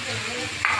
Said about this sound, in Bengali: রসুন পেস্ট দিয়েছি, ভাজা হচ্ছে।